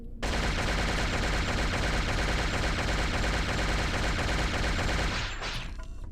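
Sustained rapid automatic gunfire from the video game SHOGO: Mobile Armor Division, loud and continuous for about five seconds before cutting off into a brief whine.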